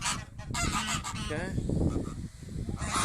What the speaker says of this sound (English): We've got about 20 ducks and they like biting.